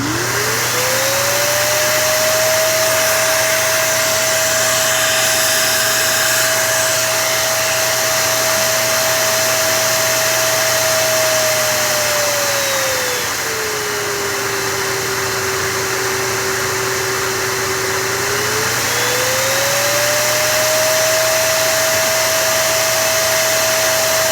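A vacuum cleaner running at full suction, giving a loud, steady motor whine that holds, dips lower in pitch for a few seconds, then rises back, with no talking.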